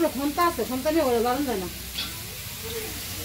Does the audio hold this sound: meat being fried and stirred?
yes